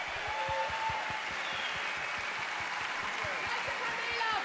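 A large festival crowd at an open-air pop concert applauds, a dense continuous wash of clapping with a steady thumping beat underneath and faint shouts rising from the audience.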